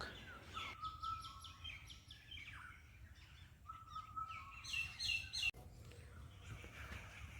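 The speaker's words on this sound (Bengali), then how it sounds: "বউকথাকাও পাখির ডাক" An Indian cuckoo calls repeatedly in Deogram forest, clear whistled phrases rising above a steady background of other birdsong and insect hum.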